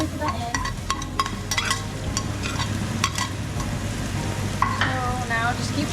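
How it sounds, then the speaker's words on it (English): Onion fries in a pot under a steady sizzle while a utensil stirs it, producing a run of quick scraping clinks early on that thin out later, heard up close. "So just keep stirring for about a minute."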